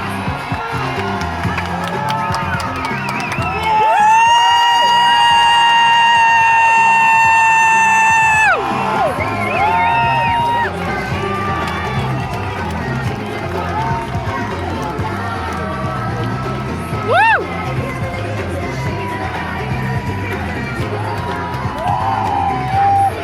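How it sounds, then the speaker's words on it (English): Loud cheering at a protest, played back as a recording, makes a dense crowd roar full of whoops and yells. Shrill sustained shouts and a whistle-like cry stand out near the start, with the noise staying continuous and strong throughout. "I'll play this brief clip. It may be loud cheering."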